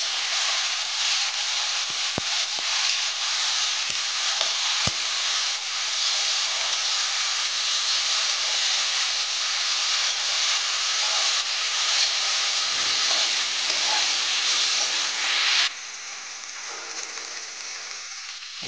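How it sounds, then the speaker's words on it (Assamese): Dhekia fern greens, salted and with turmeric, frying in a pan as a steady loud hiss and sizzle, with a few faint clicks near the start and a softer tail at the end. "এতিয়া অলপ ভালদৰে ভাজি ল'ম।"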